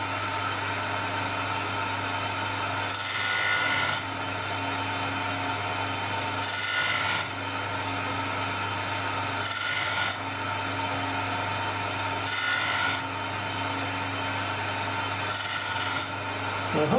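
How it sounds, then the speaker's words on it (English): A grinding wheel works a fine-pitch tap, giving a steady hum broken by four or five louder, crisp bursts of contact, each lasting about a second, in a quiet workshop with no talking. "at the moment, it's grinding nice and crisp, and we're getting a good finish"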